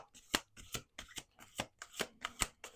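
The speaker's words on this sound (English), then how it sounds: "Last shuffle." Close, crisp card shuffling in a rhythmic series of sharp slaps and riffles, about seven distinct strikes in quick succession.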